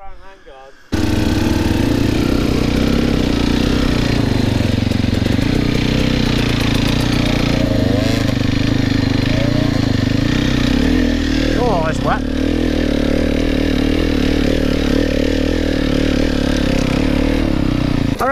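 An enduro dirt bike engine revs and drones loudly and steadily up close after a brief quiet start, rising and falling with the throttle and riding over rough ground, with voices talking now and then.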